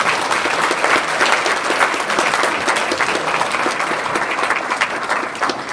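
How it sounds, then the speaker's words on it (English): Loud, sustained applause from a banquet crowd at a fraternity Founders Day dinner, cheering award winners; a thick, even roar of clapping hands lasts several seconds without a break. "Let's give everyone a round of applause that won an award tonight"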